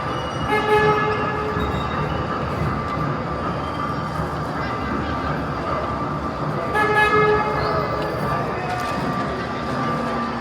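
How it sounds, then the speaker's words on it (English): An indoor amusement park train at Mall of America, Bloomington, Minnesota, rumbles past with steady mechanical noise and sustained tonal horn or whistle toots, louder bursts near the start and again later. "some people who wouldn't get out of the way of the train"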